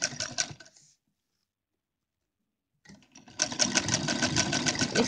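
A sewing machine stitches fabric for a deity's dress at a medium stitch length, whirring steadily for about a second, falling silent for nearly two seconds, then starting again and running fast and loud to the end.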